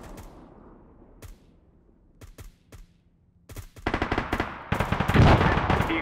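Helicopter guns and rockets fire in a military video game: a few isolated sharp shots, then dense rapid bursts of gunfire and heavy blasts building loudly toward the end.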